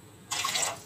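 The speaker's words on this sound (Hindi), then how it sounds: "अभी और थोड़ा सा पानी डालूँगी" Water poured into a cooking pot on a gas stove, a brief splashing gush starting abruptly partway through and lasting about half a second, close and alone.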